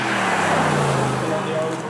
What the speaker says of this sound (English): The AMG GTR 4-litre V8 twin turbo.